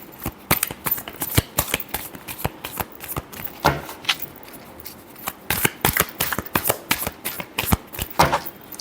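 A deck of tarot cards is shuffled close up in a steady run of rapid, crisp riffles and flutters that continues throughout with no talking.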